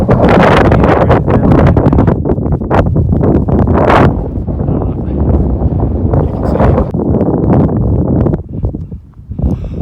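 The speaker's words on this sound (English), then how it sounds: "Wind is whipping." Strong wind blasts across a microphone on a mountain pass in the Sierras, loud, continuous, roaring buffeting with gusty surges that drown out everything else, easing briefly near the end.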